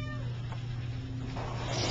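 A cat at an animal shelter gives a short, fairly faint meow over a low steady hum of background noise, lasting only a moment.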